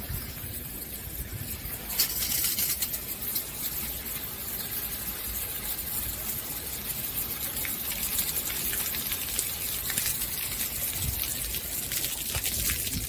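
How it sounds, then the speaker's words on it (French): Water from a hose gushes steadily onto a sailboat's rear deck, a continuous close splashing and trickling that runs unbroken for the whole stretch with no talk. "Alors j'ouvre l'eau. C'est bon, j'ouvre l'eau. On va arroser la plage arrière."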